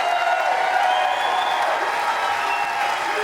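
Spectators at the 2015 Weber Cup darts tournament clap and cheer in a steady, full wash of applause that stays loud and even from start to finish, with crowd voices blended into the noise.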